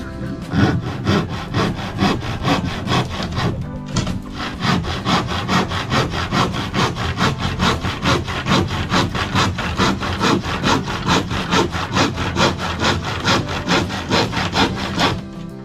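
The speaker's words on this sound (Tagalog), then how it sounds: "tabasin natin tong plywood" A hand saw cuts plywood for a ceiling with rapid, even back-and-forth strokes, loud and close, keeping a steady rhythm with only a brief pause partway through.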